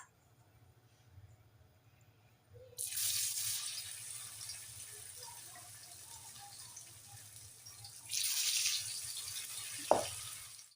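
Potato slices hit hot oil for potato chips, setting off a loud bubbling sizzle that settles into a steady hiss, surges again later, and ends with a brief metallic clink.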